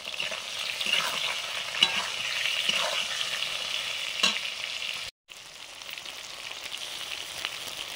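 Okra fries with turmeric, salt and spices in a pan, a steady close sizzle broken by occasional stirring scrapes and a brief dropout.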